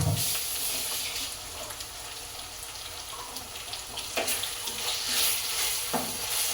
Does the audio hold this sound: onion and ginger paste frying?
yes